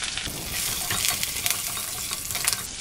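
Curry leaves, dried red chillies, green chillies and ginger frying in hot oil for a sundal dish, a close, steady crackling sizzle with a few louder pops throughout.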